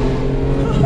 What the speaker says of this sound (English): 500 horsepower, 4 liter, naturally aspirated Porsche engine. Do you hear those shifts?